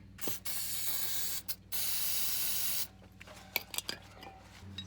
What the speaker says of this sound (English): I'm gonna clean them up with some brake cleaner first.